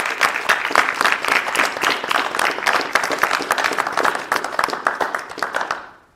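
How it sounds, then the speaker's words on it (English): Sustained audience applause at a high school National Honor Society induction ceremony, dense clapping from a crowd that holds steady and then fades out at the end. "They deserve a round of applause"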